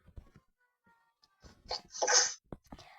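A single sharp sneeze bursts out in the middle of a quiet stretch during a two-player children's game, preceded by a few soft breathy sounds and followed by a brief murmur.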